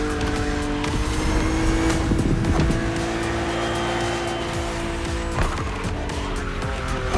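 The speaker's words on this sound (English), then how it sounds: "BMW Z models are what we call roadsters. Two-seaters made for relaxing behind the wheel, appreciating the scenery and the thrill of speed" BMW Z roadster engine in The Crew Motorfest racing game holds a steady loud drone with shifting pitch as the car races, tires squealing and skidding intermittently throughout.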